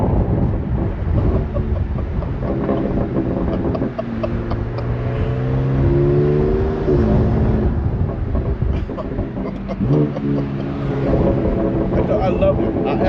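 A 2016 BMW M4 GTS with an aftermarket intake revving under a constant loud rumble, its deep engine note sweeping up in pitch several times, close and heavy throughout.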